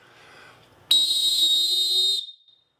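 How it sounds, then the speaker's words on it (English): One sharp, shrill referee's whistle blast held loud and steady for over a second, then cut off abruptly. "you're gonna blow your whistle as loud and long"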